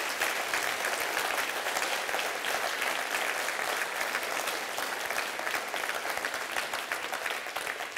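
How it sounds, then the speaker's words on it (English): A hall audience in Rutherglen, Scotland gives a round of applause for the fire service at a public discussion, a dense, steady burst of many hands clapping at once that lasts the whole stretch with no speech over it. "let's hear a round of applause for our fire service in Scotland"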